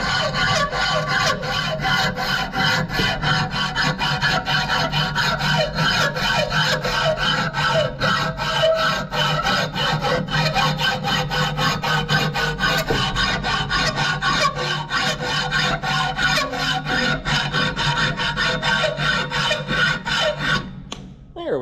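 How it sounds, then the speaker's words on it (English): Hacksaw cutting off a metal stub on a Case 490 disk gang, with steady, close back-and-forth rasping strokes for about twenty seconds before stopping. "So I'm going to get the hacksaw and actually cut that off."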